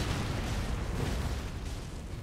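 A video game explosion roars as a loud, sustained broadband rumble, thick and boomy throughout without distinct separate blasts, filling the moment with no talking.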